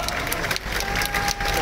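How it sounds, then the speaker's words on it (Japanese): Audience applause at the opening ceremony of the 2024 Nagaoka Festival peace festival in Japan: a steady, dense wash of crowd clapping that carries on without a break, with a faint announcer-like voice in the mix. "盛大な拍手をどうぞ。"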